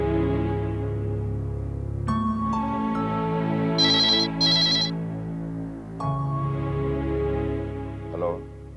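A telephone rings during an outgoing call, a sustained electronic ringtone tone repeating in long phrases with brief high chirps, loud and close, and a faint voice near the end.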